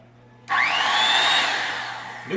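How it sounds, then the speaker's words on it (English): A Skil HD77 worm drive circular saw motor under restoration, freshly fitted with a new cord, spins up with a rising whine and runs steadily at close range, then cuts off, with no talk over it. "Motor sounds wonderful"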